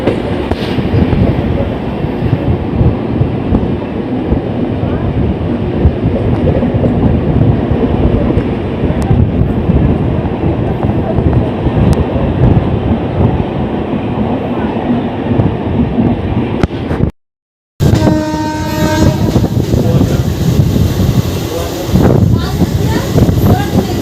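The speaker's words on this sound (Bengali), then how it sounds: "আমাদের ট্রেন চলে আসলো সেকেন্ড স্টপেজ উলুবেড়িয়াতে" A Howrah to Digha local train runs with a steady, loud rumble and wheel clatter, joined by heavy wind buffeting and a brief dropout near the end.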